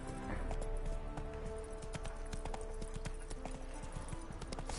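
Roach, the horse ridden in a video game, gallops with a steady, rapid clip-clop of hooves, close and prominent, over a low game ambience with no talking.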